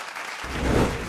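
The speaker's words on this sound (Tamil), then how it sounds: "ஒரு உற்சாகமான கைத்தட்டல்களோடு." A brief swell of audience applause rises at a Tamil stage event on happiness, the clapping thickening after a quiet start and holding steady to the end.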